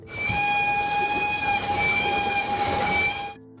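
A train on the Asmara-Massawa Railway in Eritrea, an Italian-built line from the early 1900s, sounds a long, loud, steady horn blast over a continuous rumble of the train, ending abruptly.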